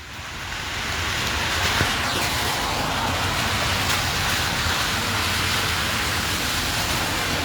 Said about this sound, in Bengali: প্রচুর বৃষ্টি হয়ে গয়া